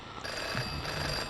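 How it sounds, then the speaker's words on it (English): A telephone rings in the video game FM, a continuous electronic bell tone that holds steady and fairly close with no talking over it. "now the phone is ringing"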